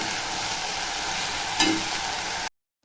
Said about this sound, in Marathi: आता हे वाटण वाटलेलं त्याच्यामध्ये टाकते आणि चांगलं याला परतून घेते